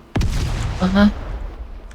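An explosion goes off in the Roblox game DARKDIVERS: a sharp, loud blast followed by a decaying rumble, with a short shouted voice over the tail.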